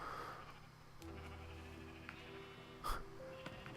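A sheep bleats in Minecraft inside an enclosed sheep farm, a faint, short wavering bleat over quiet background with a couple of soft clicks.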